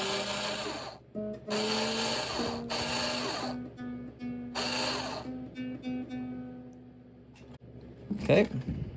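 A nylon guitar string is wound onto its tuning peg, its ringing tone sliding steadily upward as the string tightens, broken by soft ratcheting turns and a final handling clatter.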